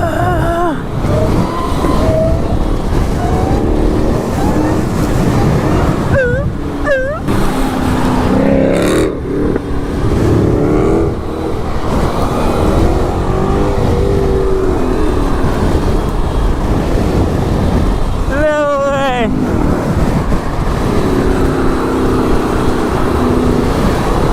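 A Dodge Hellcat Redeye engine roars and revs loudly and close, its rising and falling pitch sweeping through repeated throttle blips over constant road rumble, with excited voices heard.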